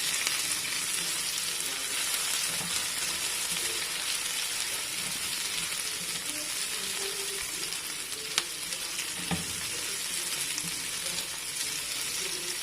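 Chopped onion fries in olive oil in a frying pan, giving a steady close hiss and crackle with occasional stirring knocks and no talk.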